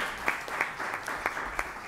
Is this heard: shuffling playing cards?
no